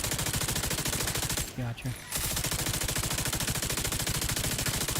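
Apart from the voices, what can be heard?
gunfire from a video game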